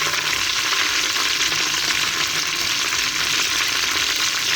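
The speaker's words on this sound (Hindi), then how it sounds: "इनको हम थोड़ा ऑयल में फ्राई करेंगे" Something fries in hot oil with a steady, loud hiss and crackle, close up and unbroken throughout, with no voices.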